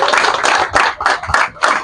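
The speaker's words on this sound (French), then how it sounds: "Est-ce qu'on peut même d'abord applaudir?" Hands clap together at an 80th birthday celebration, several close, loud bursts of applause rising and falling in quick succession with no talk over them.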